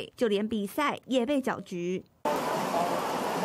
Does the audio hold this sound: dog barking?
no